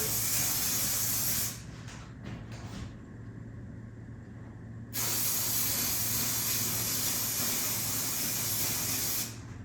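Aerosol spray hissing onto the slate of a pool table at a middle pocket, covered in old cloth: loud steady hiss for about a second and a half, a few short bursts, then two long continuous sprays.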